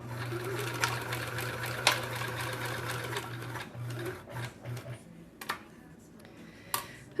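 A home sewing machine stitching small fabric puppy and kitty ornaments, with a steady motor whir that stops and restarts in short bursts, then a few clicks and handling taps nearby.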